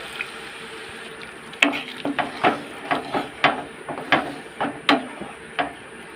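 Katla fish masala with turmeric and salt being stirred in a pan: a series of sharp scraping and clinking spatula strokes in an irregular rhythm over a soft background sizzle, close and moderately loud.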